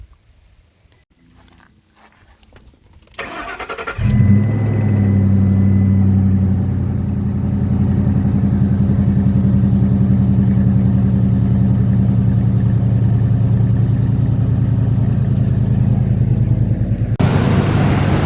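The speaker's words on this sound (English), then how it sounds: "we should be getting ready to start the truck" After a few seconds of quiet clatter, a 2004-2008 Ford F-150 pickup engine cranks and catches, then settles into a loud, steady rumbling idle that runs on before cutting off.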